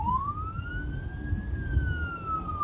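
An ambulance siren wails through traffic on a bridge in Poland, one long rising and falling tone sweeping across, moderately near over a low traffic rumble.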